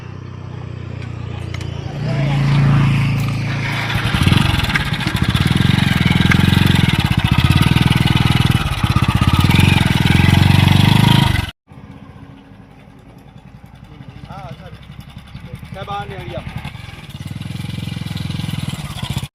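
A motorcycle engine runs loudly and steadily for about eleven seconds, then cuts off abruptly, after which a quieter idle or distant engine continues with voices talking over it.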